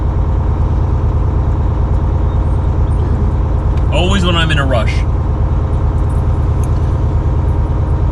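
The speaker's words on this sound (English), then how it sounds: "so my truck wants to do a regen now that I want to get rolling" A semi truck idles loudly and close while running an exhaust regen, a dense continuous engine drone that holds steady throughout as someone speaks briefly over it.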